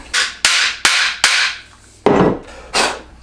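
A star nut is hammered down into a bike fork steerer using a length of PVC pipe, giving a series of sharp, loud strikes with short decays, four quick hits and then two more after a brief pause.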